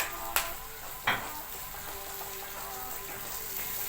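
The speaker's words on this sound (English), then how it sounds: "continue sauteing it again until it's golden brown" Chopped sesame onion sautéing with garlic and onion in a pan, a soft continuous sizzle at close range, broken early by two sharp utensil clicks, with no one speaking.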